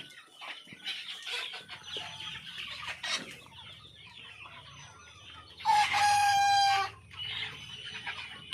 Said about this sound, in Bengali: আমার এই ফার্মটায় পাঁচশো মুরগি আছে